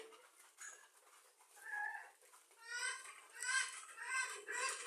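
Racing pigeons coo softly while eating, in repeated low murmurs, with light chatter-like bird sounds rising and falling; faint and fairly close.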